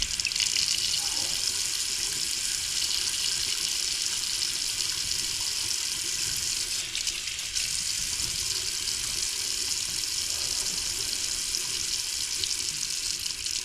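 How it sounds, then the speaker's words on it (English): A Moen Posi-Temp single-handle sink faucet runs steadily to purge water from the plumbing, making a continuous loud hiss of flowing water. "purge the water from here as well"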